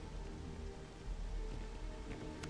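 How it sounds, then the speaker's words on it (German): Steady thunderstorm rain falls in the video game Starfield, a dense, even hiss of downpour close and constant throughout, with no talking. "Jetzt gewitterig."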